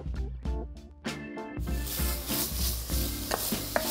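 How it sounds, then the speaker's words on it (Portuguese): Onion sautéing in hot fat in a preheated pot, a close, steady sizzle with stirring scrapes, and music playing underneath. "Refogamos a cebola um pouco"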